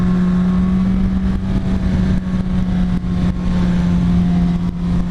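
A 1968 Ford Mustang engine runs loud and steady through a turn, its low rumble droning throughout with slight swells as it accelerates.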